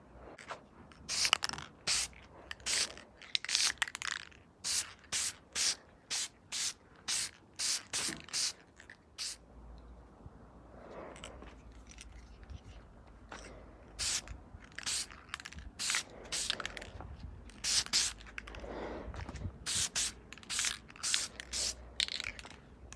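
Eastwood Golden Cad coating sprayed onto Mercedes R107 window regulator rods and small parts, heard as many short hissing aerosol bursts in a steady rhythm, close and fairly loud, with brief pauses and faint handling noise between.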